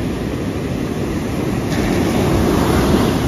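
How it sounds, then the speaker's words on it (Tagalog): Strong ocean waves roll in as a loud, steady roar of surf that holds without a break and swells slightly toward the end, with no voices. "Masyadong malakas yung alon."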